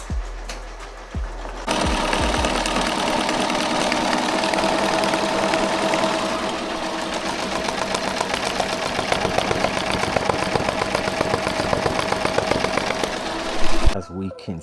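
An embroidery machine stitching custom Richardson 112 hats runs in a steady, fast mechanical chatter for most of the stretch, starting abruptly after a few clunks and stopping near the end, with a person talking over it.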